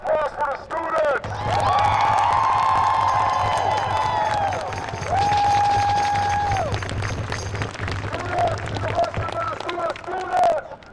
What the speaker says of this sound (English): Could I please get a round of applause for the students?